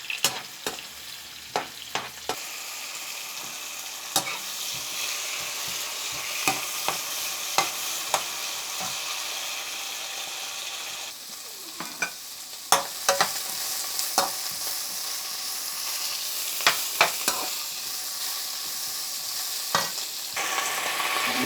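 Capsicum and string beans sizzle steadily in a hot pan, with repeated sharp scraping and clacking of a spatula as they're stirred, no talking.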